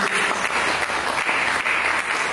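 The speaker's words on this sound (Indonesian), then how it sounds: "Berikan tepuk tangan bagi Yesus." A congregation applauds for Jesus at a church service, a dense, sustained wash of clapping from many hands, steady and fairly loud throughout with no voices over it.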